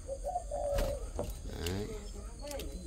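A tame breeding dove coos close by in a few soft, repeated low notes, interleaved with someone talking nearby.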